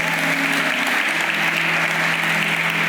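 A church congregation at a Spanish-language Hillsong Sunday service bursts into loud, dense, continuous applause that fills the whole stretch with no pause.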